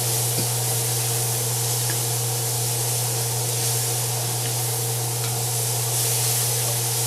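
Food caramelizing in a cast iron pan while stuffed peppers are cooked, a steady, even sizzle with a constant hiss and a low hum beneath it, no speech.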